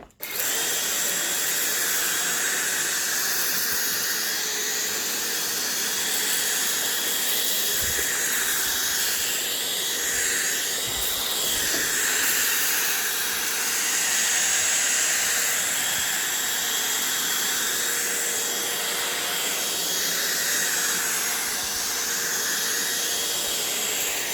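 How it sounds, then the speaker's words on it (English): An Air Force 360 cordless vacuum cleaner picks up spilled rice from a floor and carpet. Its high-pitched motor whine and hiss run steadily and close for the whole stretch, with small pitch shifts as it moves. "let's just make a small test and try to vacuum here. There are some rice and things like this on the floor and on the carpet"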